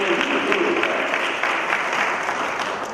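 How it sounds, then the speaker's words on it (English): Teachers in a superintendent's morning meeting applaud steadily, a continuous wash of many hands clapping at moderate distance, even in loudness across the moment. "Y'all give me a round of applause."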